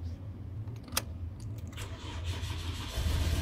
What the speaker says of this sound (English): As you can see, I start the engine.